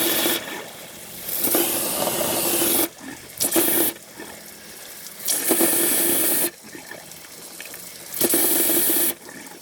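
Water rushes and gushes through a 1991 Toyota Tercel radiator hose in loud, steady bursts, stopping and restarting several times with brief near-silent gaps between surges.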